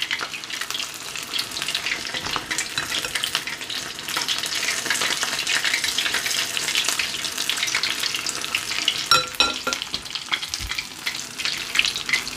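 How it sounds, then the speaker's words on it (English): Bahamian conch fritters fry in hot oil with a dense, steady sizzle and crackle, close and constant throughout, with an occasional brighter spatter and no talking. "I'm gonna add more fritters so that the oil doesn't continue to get too hot"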